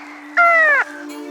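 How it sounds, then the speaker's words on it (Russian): Signal from the Soviet Lunokhod lunar rover: a steady electronic hum runs throughout, broken by one loud half-second harmonic tone that bends slightly downward, followed by a fainter sustained tone. "Это голос лунника."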